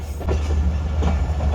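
Bolan Mail passenger train running into Kotri, heard from on board as a steady low rumble of rolling wagons with faint wheel clatter throughout.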